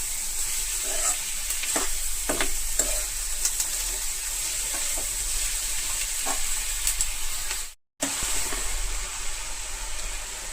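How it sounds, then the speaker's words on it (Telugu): Vegetables for a home curry fry in a pan until soft, a constant bright sizzle with occasional stirring knocks and one brief dropout near the end, no voices. "కొంచెం మగ్గేంత వరకు వీటిని ఇలా వేయించుకున్నాను."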